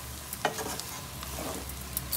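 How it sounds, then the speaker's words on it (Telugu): Chicken pieces with ginger and chili powder sizzling and being stirred in a pan, a steady close frying crackle broken by occasional scrapes of the spoon. "ఇంకా కొంచెం మంచిగా ఫ్రై కావాలి ముక్కలు."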